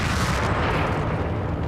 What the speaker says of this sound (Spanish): cuando la súbita explosión de la Mercedes vino a hacer más peligrosa la posición de las otras tres